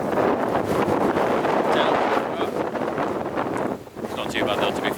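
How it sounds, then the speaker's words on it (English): Strong evening wind at a wild campsite near Haweswater buffets the microphone in loud, continuous rushing gusts, easing briefly near the end before picking up again. "It's windy now."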